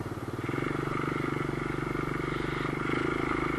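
A Kawasaki KLX110 pit bike rides across ice with a steady, buzzing single-cylinder drone that is close and fairly constant, and a faint voice sits underneath.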